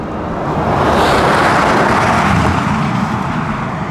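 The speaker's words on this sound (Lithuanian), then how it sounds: "Fūrų garsą pasiklausai." Semi trucks pass on a road in a steady, loud, broadband roar that holds for several seconds with no voices.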